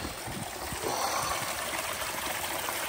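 Water spills steadily off a weir stone and cascades down a small backyard waterfall spillway into a pond, a close, continuous rushing and splashing wash with no voices.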